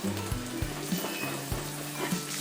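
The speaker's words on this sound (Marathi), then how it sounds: "मिक्स केल्यानंतर यामध्ये कापून घेतलेली कांद्याची पात घालायची" Chopped spring onion greens frying in Khandeshi eggplant bharit, a close, constant sizzle broken by a few sharp spoon knocks against the pan, with no voices.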